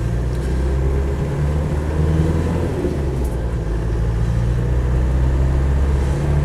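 A Land Rover 90 2.5TD pickup pulls away, its diesel engine droning loud and close in a steady low rumble that builds slightly as it drives off, with no talking.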